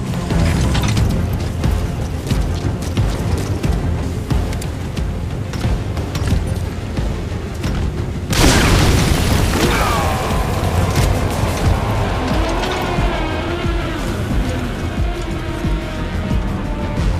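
RPG rockets striking a burning boss in Metal Gear Solid V: a sustained rumble of combat noise, then a sudden loud blast midway that rolls out into a long, ringing decay, with no talk.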